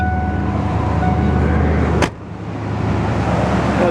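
A 1995 Ford F-150 pickup engine with long tube headers idles with a deep, steady rumble, briefly interrupted by a sharp burst midway before the idle continues.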